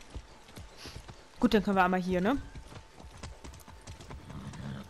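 Horse hooves clip-clop in Far Cry 6 as a player leads the horse a few meters, steady rhythmic steps close by, partly under someone talking in German.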